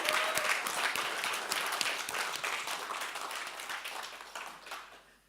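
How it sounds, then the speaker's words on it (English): An audience at a business innovation pitch event claps in sustained applause that starts full and gradually thins and fades toward the end, with no clear speech over it. "Give yourselves a huge round of applause."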